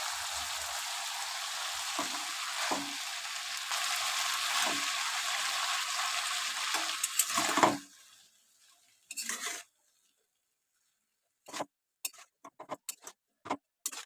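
Pumpkin greens hitting a hot pan set off a loud, steady hiss with a few stirring scrapes for about seven seconds. It then cuts off to near silence, broken by scattered faint clicks and taps.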